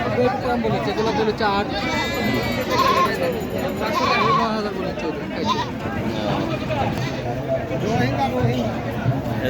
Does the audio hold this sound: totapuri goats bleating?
yes